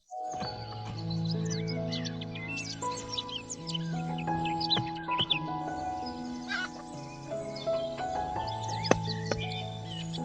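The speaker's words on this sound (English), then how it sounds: "The lively chirping of birds greets the sun." Several birds chirp and call together in a busy chorus in a rural village in Nagaland, India, over a sustained musical drone, with occasional sharper calls cutting through.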